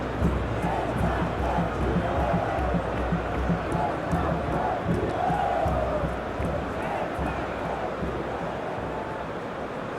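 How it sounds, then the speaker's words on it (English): Dense, steady stadium crowd roar from a capacity audience at a PES football video game match, Brazil versus Portugal in a World Cup final, continuous and fairly loud throughout with a commentator's voice over it. "a capacity crowd here"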